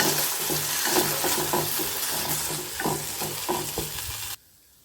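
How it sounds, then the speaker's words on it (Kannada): Chopped tomato sautés in a pan with a few drops of oil, a close crackling sizzle punctuated by rhythmic spatula scrapes and clinks before it stops abruptly. "ಒಂದು ಪ್ಯಾನ್ಗೆ ಒಂದು ಸಣ್ಣ ಸೈಜಿನ ಟೊಮೊಟೊವನ್ನು ಕಟ್ ಮಾಡಿ ಮಾಡಿ ಹಾಕಿ ಒಂದು ಎರಡು ಡ್ರಾಪಷ್ಟು ಎಣ್ಣೆ ಹಾಕಿದ್ದೀನಿ ಇದನ್ನು ಚೆನ್ನಾಗಿ ಬಾಡಿಸ್ಕೋಬೇಕು"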